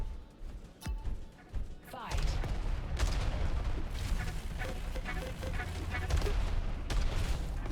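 Grenades and gunfire in the arena shooter Diabotical burst in a busy, loud stream of thuds, blasts and rapid shots, dense and close, with a voice talking over the fight.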